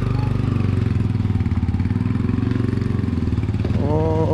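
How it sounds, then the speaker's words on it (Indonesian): Motorcycles at an outdoor motorbike event, a close idling engine putting out a steady pulsing drone, with another engine revving up near the end, no talk. "banyak anak motor nih. Di sini lagi ada acara motor."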